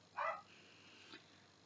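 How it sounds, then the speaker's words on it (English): A pet dog in a home gives a single short bark, muffled and somewhat distant, followed by a faint second yip about a second later, with quiet room noise in between. "there's my dog barking because my dad's home"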